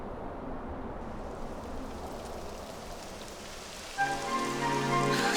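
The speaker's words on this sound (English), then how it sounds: "It would have to go and start raining, wouldn't it?" Steady rain in Dragon Quest XI S: Echoes of an Elusive Age, a continuous hiss of drops on the ground, with sustained tonal game music coming in over it near the end.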